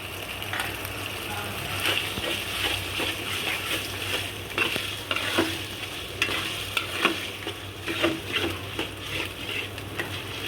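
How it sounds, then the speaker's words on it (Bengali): Ginger and garlic paste being fried and stirred in a pan for a duck pulao, with a steady close sizzle and repeated scraping stir strokes throughout, no talking. "আদা রসুনটা একটু ভাজা ভাজা করে নিব যাতে গন্ধ না আসে"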